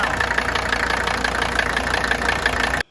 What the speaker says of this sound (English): I've had situations where these engines will knock with bad fuel, old fuel, or even gasoline